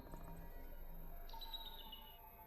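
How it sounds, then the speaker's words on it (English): Faint bird chirps and tweets from a Nintendo game trailer, a few short calls and a brief higher trill over quiet background hum. "It's a bird sound."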